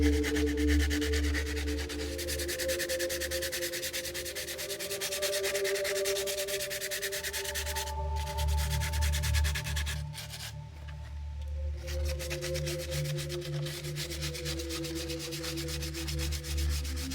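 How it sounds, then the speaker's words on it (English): Sandpaper rubbing over dried plaster on a Sintra board for a 1/35 scale Merkava tank diorama, a steady close scratching that runs continuously throughout with brief pauses in the strokes. "Once the applied plaster on the Sintra board surface has dried, this is the best time to sand and make a fine surface finish."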